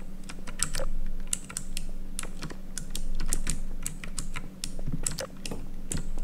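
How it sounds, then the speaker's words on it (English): Rapid clicking keystrokes on a loud computer keyboard during Garry's Mod play, close and uneven in rhythm over a steady low hum, with no voices. "Sorry for the loud keyboard if it's loud,"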